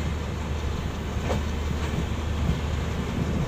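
A passenger intercity train pulls out of Mavli Junction, its rolling wheels on the rails making a steady, loud low rumble with faint rhythmic clatter heard from on board.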